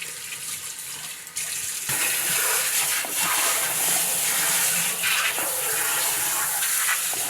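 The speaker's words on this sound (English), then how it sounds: "Give it a thorough rinse to clean out everything inside." Running tap water streams steadily over a whitefish being rinsed clean in a sink, a continuous close hiss and splash with shifting gurgles as the fish moves under the flow; no talking.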